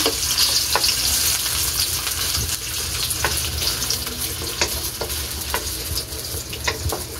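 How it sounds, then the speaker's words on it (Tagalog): Ham and hotdogs fry in a pan, filling the air with a loud, close, continuous sizzle broken by scattered clicks and scrapes as the pieces are moved around, with no talking. "Ayan, sa ham. So, fry lang po natin."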